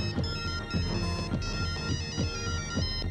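A mobile phone ringtone rings loudly and alone, a repeating bright electronic melody with regular pulses throughout.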